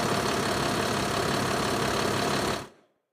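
A heavy tractor engine rumbles loudly and evenly at idle, then cuts off abruptly near the end, leaving silence.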